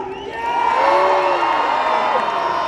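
A large crowd cheers and whoops at a jousting tournament between Canadian and American knights, a loud sustained roar with high shouts and whistles throughout, close and continuous.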